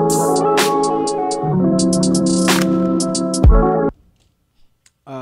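A beat plays a muffled, bandpass-filtered lo-fi melody over sparse hi-hats and a deep bass drop, then cuts out abruptly to near silence before a brief swelling tail returns.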